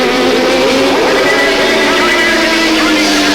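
Race cars at Lakeside Raceway during a 1987 Swann Series race, engines droning loudly and steadily with rising and falling pitch as several machines pass close by, a continuous roar throughout.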